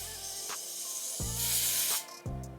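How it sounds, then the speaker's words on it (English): Aerosol hair spray hisses onto a wig in a few long bursts, with a strong sustained burst in the middle, close by and fairly loud, separated by short pauses. "I'm gonna spray the sides, just the hair."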